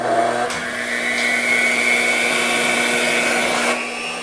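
A homemade calliope blower box, sitting loose on plywood with no sound deadening, runs at about one-third speed, giving a steady, loud, close whirring drone with a constant hum that carries alone from start to finish.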